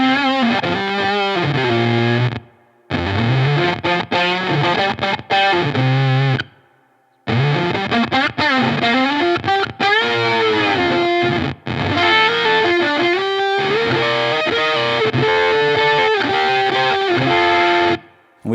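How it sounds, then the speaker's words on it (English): Square wave fuzz pedal at full blend on an electric guitar, with the filter side engaged under an expression controller: loud, heavily distorted notes and bending phrases played in bursts, broken by a few short silent gaps. "let Paul dig into this square wave fuzz"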